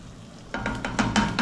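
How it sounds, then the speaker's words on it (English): Minced meat (keema) frying in a pan is stirred after a brief quiet start, giving scraping strokes over a steady close sizzle in several rhythmic pushes. "You stir a little like this."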